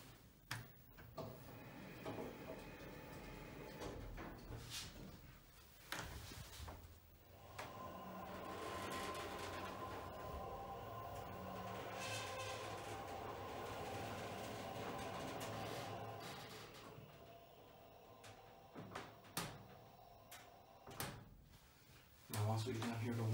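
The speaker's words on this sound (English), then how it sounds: "You have to press and hold the door close button until the door closes all the way." Schindler 330A elevator in fire service mode: clunks and thumps of the door closing while the button is held, then a sustained low hum of the car travelling down, with a faint voice briefly at points.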